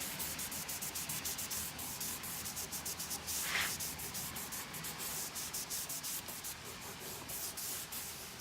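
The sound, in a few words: cloth rubbing excess stain off wine barrel staves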